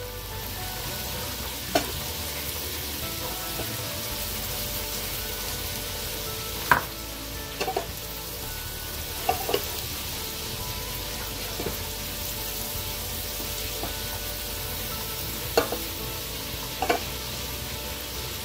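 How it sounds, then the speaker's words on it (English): Butter melts in a pan with quiet, steady sizzling and occasional soft clicks and taps, no talking. "We're going to wait for our butter to melt nice and warm."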